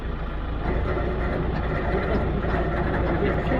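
A wildfire extinguishing truck's engine running with its PTO pump just engaged, giving a steady, loud, dense grinding rumble that holds constant throughout with no pauses.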